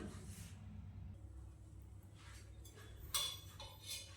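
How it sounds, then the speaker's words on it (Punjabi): A kadai (wok) set down on a gas stove in a home kitchen gives a single light metallic clink, faint against a low steady background hum, followed by a softer knock. "ਇਹ ਕੜਾਹੀ ਧਰ ਲਈ ਜੀ ਗੈਸ ਤੇ"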